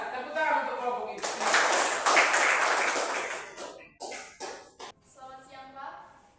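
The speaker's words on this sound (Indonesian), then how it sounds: "tepuk tangan untuk kelompok ini." A classroom audience applauds a student group after a stand-up comedy performance, with a dense burst of clapping that fades out and then gives way to talking.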